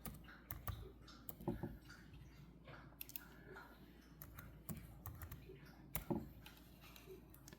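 Someone types a password on a computer keyboard, the keys giving quiet, irregular clicks with short pauses between bursts in a hushed room.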